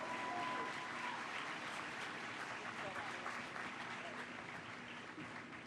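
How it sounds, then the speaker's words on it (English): Audience applause for teen co-hosts at the unveiling of The Embrace, a steady wash of clapping that fades slightly toward the end, with voices mixed in underneath. "one more round of applause for my teen co-hosts of the day"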